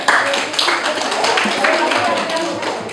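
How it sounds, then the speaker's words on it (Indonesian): Participants in a group presentation session clap for a group, loud, scattered and uneven, with voices speaking under the clapping. "Beri tepuk tangan bersama kelompok 3."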